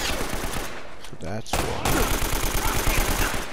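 Rapid bursts of gunfire in a shootout in the video game Uncharted on PS4, loud, dense and continuous across the clip, with a brief gap in the middle and someone talking over it.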